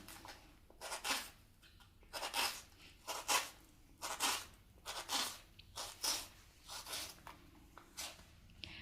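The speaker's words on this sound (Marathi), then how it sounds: "तर टोमॅटो बारीक चिरून घेते." A knife finely chopping tomatoes on a board, heard close up as an irregular series of soft crunchy cuts, about a dozen strokes with short pauses between them.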